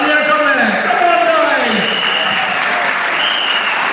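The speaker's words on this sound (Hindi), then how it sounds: "मैं चाहती हूँ कि ये पूरा पंडाल जो है वो तालियों से गूंजना चाहिए।" Sustained clapping from an audience in a ceremony pavilion at the 4th T20 Blind World Cup 2024 opening in Lahore, an even roar of hands that continues throughout while an announcer's voice carries over the top.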